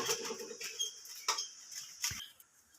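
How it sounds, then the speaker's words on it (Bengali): Gondhoraj lemon peel rubbed against a grater in a home kitchen: a few soft, dry scratching strokes in short irregular bursts, quiet and close, with no voices. "এখানে লেবুর গাটাকে একটু ঘষে দিয়ে দেব"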